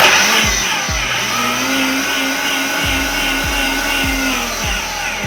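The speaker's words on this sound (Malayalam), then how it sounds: "പഞ്ചസാരയും ക്രീമും പാൽപ്പൊടിയും എല്ലാം കൂടെ ഒന്ന് നന്നായിട്ട് മിക്സ് ചെയ്യാൻ വേണ്ടിയിട്ടാണ് ഞാൻ മിക്സറിൽ ഒഴിച്ചത്" Electric mixer blending sugar, cream and milk powder for ice cream, a loud steady whirring drone with several brief pitch dips as the motor is pulsed.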